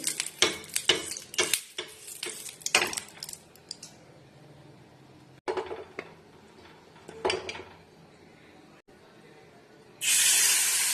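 Oil added to a pan while frying pitha, heard as scattered clattering and scraping knocks that give way to a sudden, loud hissing sizzle at the very end, close by with no talking.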